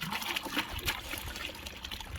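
Water trickles and splashes in quick, uneven bursts as wet white cloth is squeezed out in plain water, fairly close and soft.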